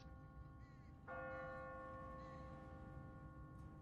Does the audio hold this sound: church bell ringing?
yes